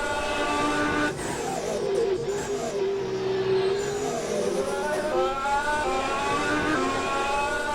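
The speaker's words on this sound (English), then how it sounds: "You can really hear the energy recovery systems in that Dork racing car." A Dork racing car accelerates with its energy recovery system whining, rising pitched tones sweeping up over a continuous engine drone, fairly close and steady throughout.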